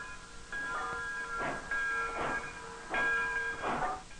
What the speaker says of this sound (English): A narrow gauge railroad hauls the logs to the mill located near the Rio Paraguay.